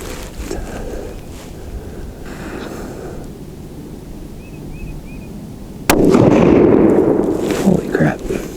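A TC Compass rifle fires a single Sierra Palma 155g bullet outdoors, one sharp, loud report cutting through steady wind noise, followed by a ringing, rumbling decay.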